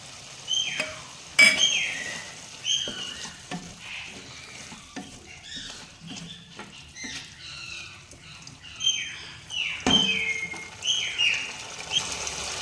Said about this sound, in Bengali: ভালো করে আমি এখন মশলাটা ভেজে নেব।